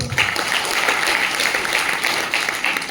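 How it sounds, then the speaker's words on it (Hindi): A seminar audience in Chandrapur claps loudly and steadily for three seconds, a dense, even wash of many hands with no break. "यस, ताली बजाओ।"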